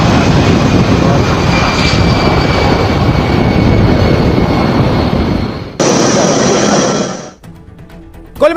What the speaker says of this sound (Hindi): इस एयरबेस से आज ही दूसरे विमान ने भी उड़ान भर दी